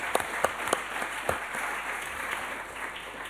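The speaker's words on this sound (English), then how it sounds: "I would like now to applaud the panel for the excellent work" An audience at an education agency meeting applauds a panel with steady, fairly distant clapping that holds evenly for several seconds, a few sharper individual claps standing out near the start.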